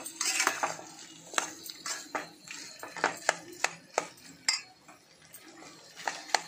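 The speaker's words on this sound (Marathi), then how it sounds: "हे छान परतून घेऊया आपण" Potatoes for vada pav being sautéed in a pan, a run of close, sharp metallic scrapes and clanks of a spoon against the pan over a soft background, with no talking.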